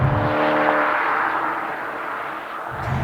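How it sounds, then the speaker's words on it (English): A Porsche Panamera GTS engine runs steadily with a smooth, sustained rumble, holding at a constant level close by with no speech. "It's just such a good sounding engine, especially compared to the M5."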